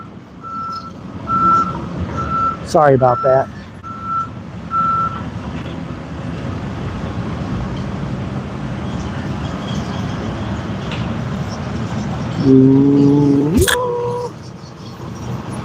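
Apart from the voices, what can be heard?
street repair truck with reversing beeps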